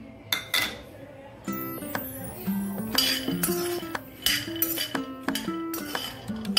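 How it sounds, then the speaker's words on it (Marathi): Peanuts dry-roasting in a pan for a methi, dink, seed and dry-fruit ladoo are stirred with a metal utensil, giving repeated close, bright clinks and ringing taps against the pan at an uneven rhythm. "आता हे शेंगदाणे ते भाजून घेते मी।"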